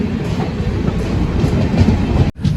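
A crowded passenger train near Gudur station rumbles along loudly and steadily with a low, rattling roar that cuts off abruptly near the end.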